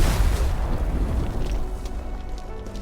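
A deep, rumbling explosion goes off in Arknights: Endfield, loud at first and then fading out over a few seconds, with no talking.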